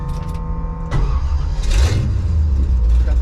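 1955 Chevy drag car with uncorked headers, the engine idling with a rough, lumpy burble, then a sharp loud blip and deep revving rumble close by.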